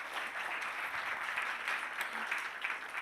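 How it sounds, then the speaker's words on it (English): Audience claps for a speaker arriving on stage at an Asteroid Day festival, a fairly quiet, even patter of many hands lasting a few seconds. "Let's give him a bit of round of applause."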